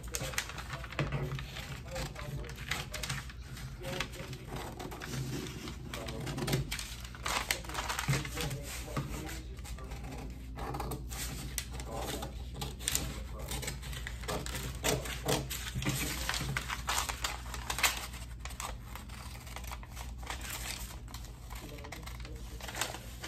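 Scissors cutting out a paper face mask pattern at close range, a continuous run of crisp snips and paper rustles with a steady low hum beneath and a person talking throughout.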